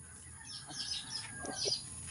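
A chicken gives a few faint, soft clucks, quiet and somewhat distant against a low background hush.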